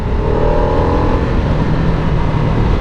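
The engine of a 2023 Harley-Davidson Nightster S on a test ride: a loud, steady, close roar with a slight rise in pitch as it pulls through the revs, heard alone with no talk.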